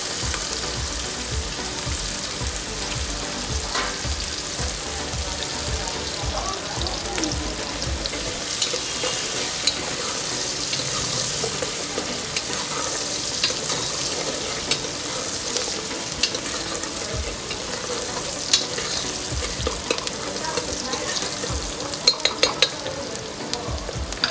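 Three chopped onions frying in a pan with asafoetida and curry leaves for Kathiyawadi veg pulao, a steady close sizzle with occasional stirring scrapes throughout, growing sharper with small crackles near the end, no talking.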